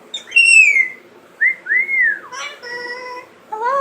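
A pet bird gives clear, loud whistles, rising and falling in several separate phrases, close by with no talk over them.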